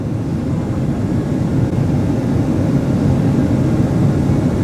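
An airplane in flight just after takeoff, with the wing swaying in the air, gives a dense, steady cabin roar of engine and rushing air at constant loudness throughout.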